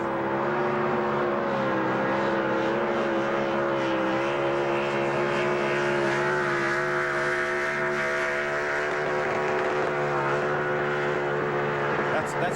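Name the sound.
race truck engine revving at 9,200 RPM during burnouts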